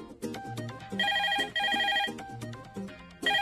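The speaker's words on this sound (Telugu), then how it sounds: "ఫోన్ చూడు" A telephone ringtone plays a repeating melodic tone pattern, loud and close, in bursts separated by short gaps, with no talking over it.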